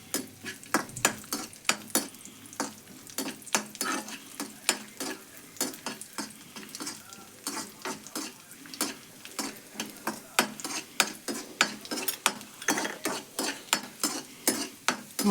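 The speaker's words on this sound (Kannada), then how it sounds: "ತುಪ್ಪದಾಗ ಹುರ್ಕೋಬೇಕು ನೋಡ್ರಿ ಇವನ್ನ." Grated carrots frying in ghee for carrot halwa hiss steadily in a pan, with a quick, repeated scrape of a spoon stirring against the metal throughout.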